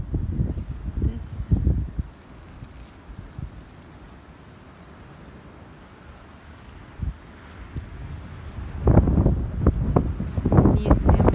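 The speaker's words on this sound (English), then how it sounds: "I'm sorry, it's so windy." Heavy wind buffets the microphone in loud, low rumbling gusts, easing briefly in the middle before surging again, with a voice speaking faintly beneath.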